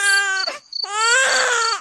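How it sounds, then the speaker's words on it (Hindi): A small baby cries loudly and close, two long wailing bursts separated by a brief gasp for breath. "तभी उसके कानों में किसी छोटे बच्चे के रोने की आवाज आई।"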